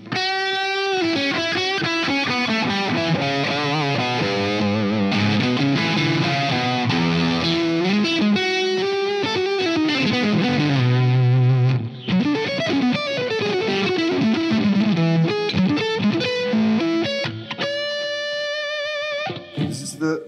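Electric guitar played through PRO-Tone octave and fuzz pedals, a loud, continuous distorted riff with thick low octave doubling, sustained chords and quick note runs, briefly cutting out near the middle and again near the end.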